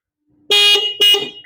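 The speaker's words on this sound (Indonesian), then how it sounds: "jadi posisi alarm masih ikut klakson, masih suara klakson" Bosch/Denso snail horn on a Daihatsu Sigra, set off through the car alarm when locking, blasts twice in loud, close succession, each honk about a quarter second long, with no talking.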